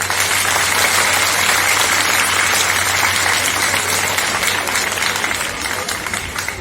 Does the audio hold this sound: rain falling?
no